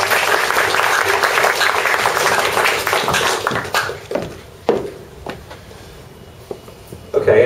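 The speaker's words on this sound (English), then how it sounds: "if we could just have a round of applause of that." Audience applause at a public Q&A session on drinking water, a loud burst of clapping for a few seconds that thins into scattered individual claps and small room noises.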